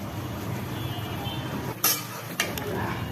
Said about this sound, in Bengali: কিছুক্ষণ পর আবার ঢাকনাটা তুলেছি আবার একটু নেড়ে দেওয়ার জন্য